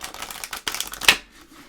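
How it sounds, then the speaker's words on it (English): Deck of oracle cards being shuffled by hand, a quick riffling flutter of card edges ending in a sharp snap, close and crisp. "Let's give them a shuffle."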